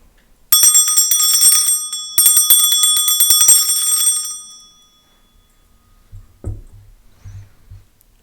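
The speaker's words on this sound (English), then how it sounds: "I'm going to start with clearing the energy with some frequency with my" A small hand bell rung to clear energy before a tarot reading: two bright, ringing bursts of rapid repeated chimes that sustain and fade. A few soft low thumps follow once the ringing dies away.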